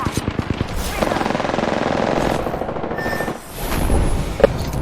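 Rapid gunfire from the battle royale shooter Apex Legends: a fast burst of sharp shots at the start, then a sustained loud roar of weapon and game noise with a brief dip, ending on a single sharp crack.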